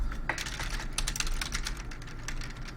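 Typing on a RedScarf 68 mechanical keyboard with modded tactile switches, an aluminum case and plate, and ABS keycaps: a rapid, uneven run of close clacks and taps with no voices.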